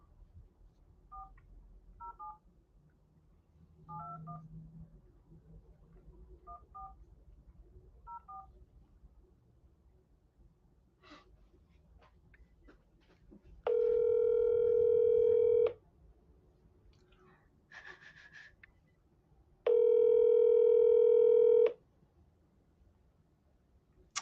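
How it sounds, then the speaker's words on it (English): A telephone call being placed: short keypad dialing tones sound in small groups, then a loud, steady tone holds for about two seconds, stops, and returns once more for a similar stretch. "All right, let's call her up."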